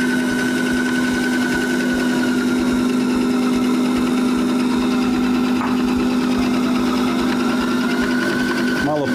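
A food processor mixing dough in its bowl, a steady, close motor whir with a constant hum that runs throughout without pause.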